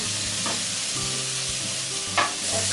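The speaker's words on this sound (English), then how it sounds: "So now I'm gonna cook this spam." Spam slices fry in a pan with a steady, loud broadband sizzle, joined by a few clinks and scrapes of a utensil against the pan, with no voices.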